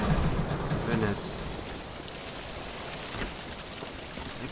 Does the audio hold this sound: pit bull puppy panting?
no